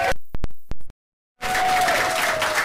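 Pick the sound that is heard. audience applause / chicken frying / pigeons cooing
audience applause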